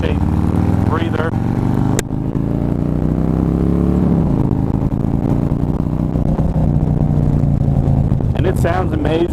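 A Harley motorcycle with a 103 motor and a Thunder Header 2-in-1 exhaust idles and rumbles loudly and steadily close by, with a short rev near the start and a person talking over it.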